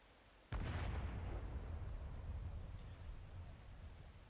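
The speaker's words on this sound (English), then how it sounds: "This is a bombardment!" A single heavy shell explodes with a sudden loud blast during a rain bombardment, then a long rumbling roar mixed with rain noise slowly fades.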